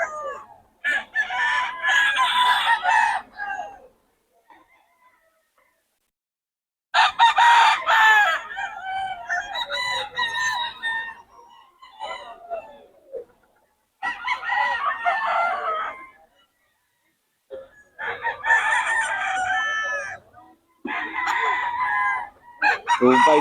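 Roosters crow repeatedly and hens cluck in loud, close bursts separated by short silences, with several drawn-out crows and busier clucking passages over about twenty seconds.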